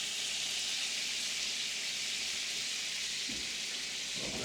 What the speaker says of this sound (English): Hear that sizzling? That's a nice sound.